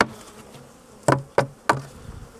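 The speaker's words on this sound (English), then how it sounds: "Always tap the bees off the crown board because you don't have the queens there." Honey bees buzz in a low, continuous drone while the hive's crown board is struck with three sharp, evenly spaced taps, close and fairly loud.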